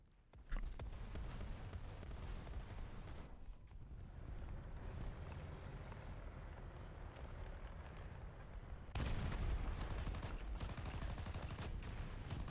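Sustained machine gun fire in War Thunder rattles as a dense, continuous roar with a brief pause near the middle, then resumes even louder. No voices are heard.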